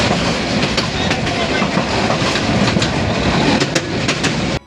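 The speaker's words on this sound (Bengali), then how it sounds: "এবার ট্রেনে চড়ে যেতে লাগলাম গৌরীপুর স্টেশনের উদ্দেশ্যে।" A Balaka commuter train rolls along the rails with a steady, loud rumble and rhythmic clickety-clack of wheels over track joints, continuous from start to finish.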